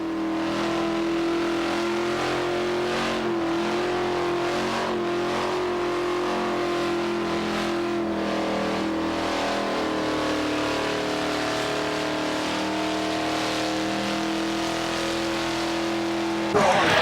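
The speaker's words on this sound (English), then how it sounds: "A 308 engine pushing this Holden, making all this smoke" A Holden with a 308 engine roars through a burnout at a Summernats car show, a sustained, loud, close engine snarl holding high revs with rasping tire noise and an announcer talking over it throughout.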